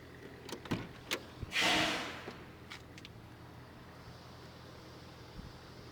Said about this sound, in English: You see the power windows there. And they all do work.